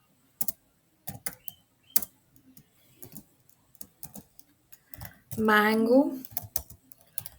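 Keys clack in scattered bursts on a computer keyboard as JavaScript code is typed, the clicks falling between stretches of a man's close, steady talking.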